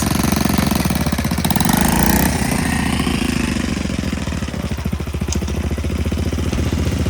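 A 20-year-old Honda Dax motorcycle runs on a dirt track, a close, steady, rattling engine drone that stays loud throughout with a slight rise and fall in pitch, and no voices.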